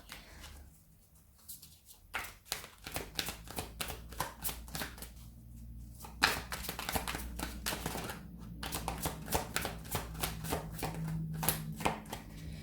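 Tarot cards riffle and snap in quick repeated bursts, close and crisp, with short pauses between rounds of shuffling and no talking.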